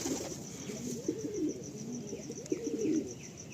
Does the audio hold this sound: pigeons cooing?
yes